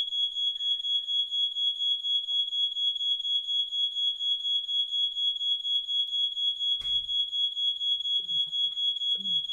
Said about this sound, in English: Because the fire alarm is going off.